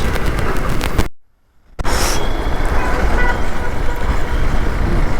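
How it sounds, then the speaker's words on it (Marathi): Evening city traffic entering Nagar on a 350 km road trip from Bhokardan to Chakan, a steady roadside rumble with honks and passing vehicles, broken by a brief silent gap before the traffic noise resumes loud and continuous. "तुम्ही संध्याकाळचे ट्रॅफिक बघू शकता"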